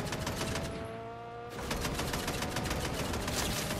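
Gunfire in the video game Fortnite, rapid bursts of shots crackling loudly and continuously, with a brief lull before the firing resumes heavily.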